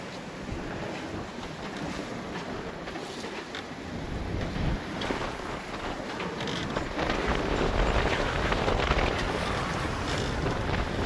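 Strong wind of 22 knots, gusting to 25, roars steadily with a constant rush of waves at sea, swelling louder toward the end; no voices.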